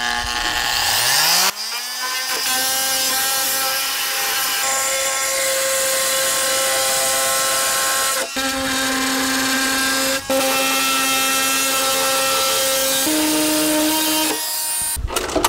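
A power saw cuts a piece out of wood for a storage project, a loud steady motor whine and cutting roar that dips briefly several times.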